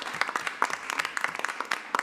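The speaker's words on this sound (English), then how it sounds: "another round of applause would be great" Applause from an audience at a school committee meeting, a dense patter of clapping hands that carries on steadily for a couple of seconds.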